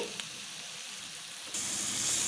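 Green chili paste sautés in a pan for a village-style broad bean curry, giving a steady soft sizzle that swells louder partway through. The sound is close and continuous, with no voices.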